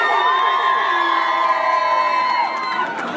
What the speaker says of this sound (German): einmal Applaus für Zack Plus